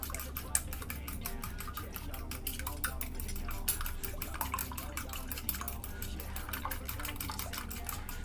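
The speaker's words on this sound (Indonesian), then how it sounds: "kita kocok telur ya" Eggs being whisked in a bowl for crispy KFC-style fried eggs, a fast steady clatter of rapid metallic tapping against the bowl running throughout, close and moderately loud.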